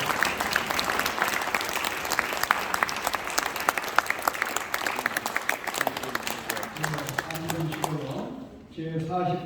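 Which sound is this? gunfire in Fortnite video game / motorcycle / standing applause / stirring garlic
standing applause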